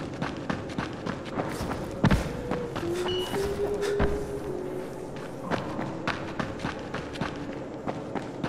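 Running footsteps in the video game Dying Light thud in a quick, steady rhythm over a low ambient bed, with a heavier impact near the two-second mark and a faint whistling tone drifting through.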